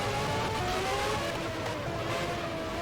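F1 race car engines from the video game F1 Challenge, set in the 1995 Australian race, drone loudly while cars overtake, a steady high engine whine with rising pitch lines, continuous and close, with no talking.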